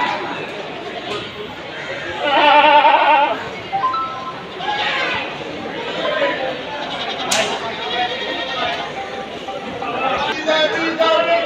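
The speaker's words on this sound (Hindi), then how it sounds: "दोस्तों ये तो बड़े बकरे हैं" Goats bleating amid crowd chatter at a busy livestock market in Deonar, with large Ajmeri-coloured and black male goats for sale; bleats come in bursts at moderate distance over constant background voices.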